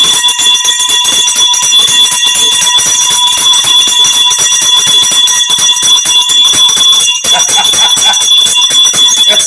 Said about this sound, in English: I gotta ring my bell for y'all because y'all step up tonight